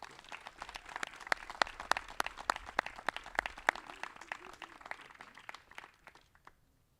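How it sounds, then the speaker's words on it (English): Scattered applause at a school signing-day ceremony, a moderate crowd clapping fairly quietly at some distance with distinct individual claps, gradually thinning out and fading to silence. "Give her a big clap."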